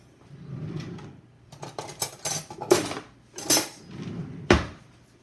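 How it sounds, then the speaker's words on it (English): A small spoon scrapes and clinks against the sides of a stand mixer bowl holding cake frosting with powdered sugar, giving irregular scraping strokes and a few sharp metallic knocks close up. "get a little spoon and scrape the sides"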